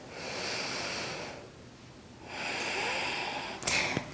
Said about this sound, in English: Inhale, exhale. Breathe in and out.